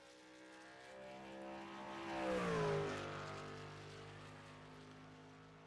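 A race truck in the iRacing video game rolls out onto the Atlanta track, its engine droning steadily and swelling to a brief rise before settling back into a constant hum, with no voices.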